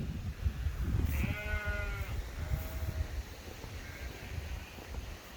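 A sheep bleats on a farm on a very windy day, one clear wavering call followed by a fainter second bleat, heard over heavy wind rumble with no talk.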